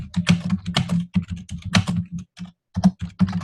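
Computer keys clatter in quick irregular bursts with short pauses, crisp and close, typing a search query on its own without speech.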